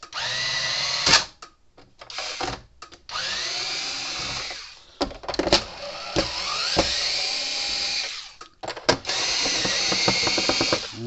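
A power screwdriver backs screws out of the case of a Gallagher MR5000 fence energizer in several loud, close whirring runs with short pauses between them, one rising in pitch as it spins.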